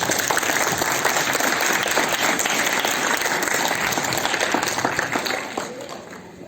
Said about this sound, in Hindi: इनका आप धन्यवाद व्यक्त करते हुए तालियों से इनको सम्मानित करें।